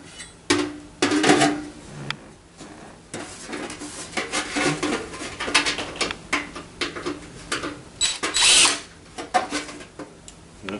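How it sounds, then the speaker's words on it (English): A metal turning vane is worked into a 9-inch high-velocity air conditioning plenum, giving close, uneven scrapes, clanks and rattles of sheet metal in bursts, without speech. "we're going to install a turning vane"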